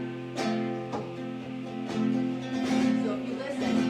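Flamenco soleares compás in a twelve-count cycle, played as steady guitar strums with sharp percussive accents recurring about once a second, close and moderately loud.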